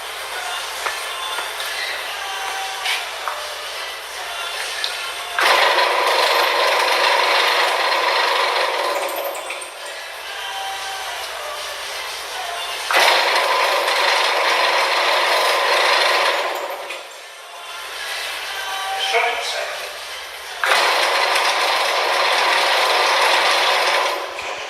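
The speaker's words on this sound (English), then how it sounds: "you can definitely see this thing is it's a very loud Hobart mixer" A loud discontinued Hobart mixer runs close by with a dense, grinding mechanical clatter that surges in repeated waves, harsher every several seconds, with no talking.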